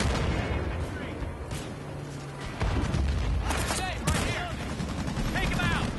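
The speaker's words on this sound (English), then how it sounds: "I'm trying to put constant fire down on them" Sustained gunfire in Battlefield Bad Company 2 during a Vietnam Rush match, with dense fusillades and booming reports forming a continuous loud barrage, a sharp burst near the middle, and other battle noise mixed in.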